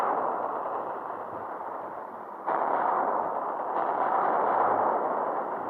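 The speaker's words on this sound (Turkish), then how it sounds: "Şuradan minigun silah gönderiyorum." A minigun firing continuously in an action video game, a dense, unbroken roar of rapid gunfire that grows louder partway through and carries on without voices over it.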